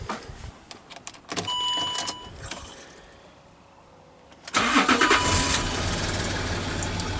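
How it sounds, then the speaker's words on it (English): A 2006 Land Rover Discovery 3 engine starts up close by. A few clicks and whirs come first, then a quiet lull, then the engine catches with a sudden loud burst and settles into a steady idle, with no talking. "So if we go ahead and start the vehicle."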